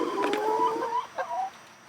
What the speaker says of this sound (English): we recently got 4 new chickens